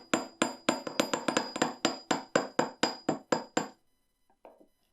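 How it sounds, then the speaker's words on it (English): A planishing hammer strikes wire earrings in a fast run of about fourteen bright, ringing metallic taps that slow slightly toward the end before falling silent, with a faint sound afterward. "so I'll just switch to my planishing hammer to take out some of those hammer marks"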